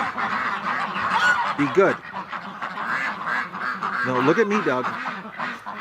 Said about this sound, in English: the ducks are at the gate